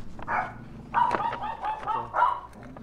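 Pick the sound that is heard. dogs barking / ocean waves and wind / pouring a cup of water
dogs barking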